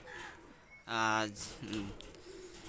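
Pakistani high-flyer pigeons coo softly nearby, a low throaty call rising briefly over quiet background voices.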